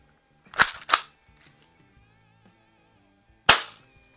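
Budget BB plinker pistol shooting at cans: two sharp, close snapping cracks in quick succession, a quiet pause, then a third crack, each loud and dry with no talking.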